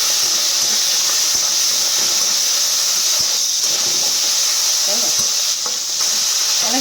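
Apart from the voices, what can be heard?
prawns sizzling as they fry in a pan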